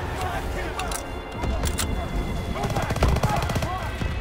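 Sustained rapid machine gun fire in a Call of Duty: WWII battle on the Rhine, rattling bursts layered with other gunshots, while voices shout over the fighting.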